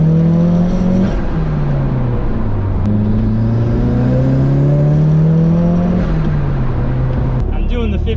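A Mazda Miata engine pulls hard during a 15-degree ignition timing test on a 100°F day. Its loud, steady drone climbs in pitch twice, and the second climb is longer, with a brief dip between them.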